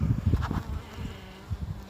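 Honeybees at the entrance of a backyard hive, returning loaded with pollen, make a low, close droning buzz that swells and fades as individual bees pass near.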